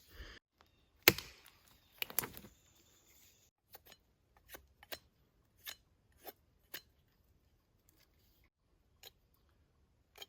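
A machete carving a damp, resinous pine bow drill spindle outdoors: a few sharp chopping strikes early, then sparse, quieter shaving scrapes and knocks spaced every second or so, close and alone.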